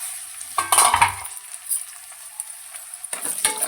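Onions fry in a pan for gongura curry with a bright, steady sizzle, broken by a utensil stirring and scraping in short bursts near the start and again at the end.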